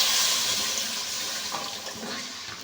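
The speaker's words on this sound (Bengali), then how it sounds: "এখন জল দিয়ে দেব।" Water pours steadily into a pot of spiced fried potatoes for a Bengali-style egg curry, a close, continuous rushing splash that gradually softens as the pour slows.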